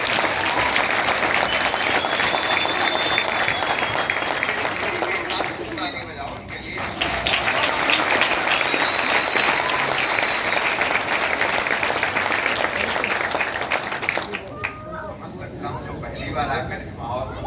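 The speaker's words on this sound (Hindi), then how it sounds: "आज के होस्ट के लिए एकदम दमदार ताली" An audience at a speech event gives a loud, sustained round of applause for the program host, a dense wash of clapping that dips briefly midway and again near the end.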